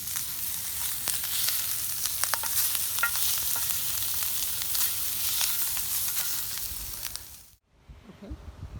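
Corn dodgers and bacon fry in a pan over a pioneer-style cooking setup, giving a steady close sizzle and crackle with occasional pops and stirring that cuts off abruptly near the end.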